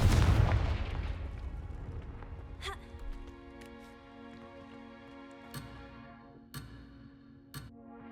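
A loud booming blast from the Confringo spell in Hogwarts Legacy opens, then decays into a ringing tail with a few sharp, fainter pops and cracks following at intervals.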